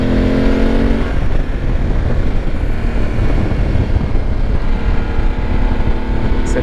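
A motorcycle engine revs steadily at high altitude, a loud, close, continuous drone mixed with heavy wind rumble against the microphone.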